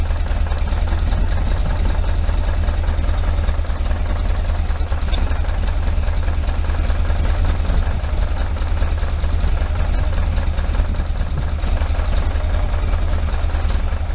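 A 1973 VW Super Beetle engine fitted with Dellorto FRD 34 carburetors and a balance tube idles roughly at a steady low rumble, with an uneven knocking pulse from weak cylinders running continuously and no voices.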